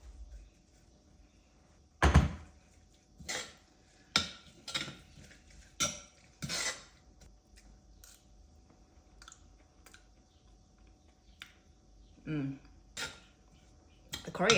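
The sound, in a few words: chopped coriander being stirred through tomato chilli dipping sauce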